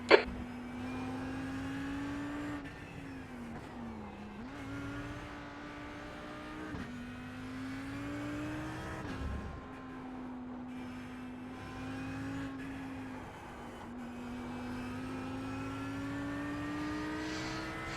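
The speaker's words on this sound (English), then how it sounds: "So we're in the Audi R8 again here at Charlotte ROVAL" An Audi R8 race car engine in a racing video game, driven at the Charlotte ROVAL, holds a steady loud drone that dips briefly with each gear change or lift and then climbs again, with no talk over it.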